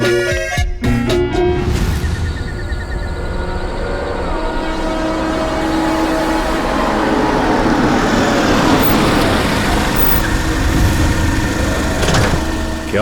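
A car engine idles loudly and steadily, a deep continuous rumble with a heavy low hum and no voices over it.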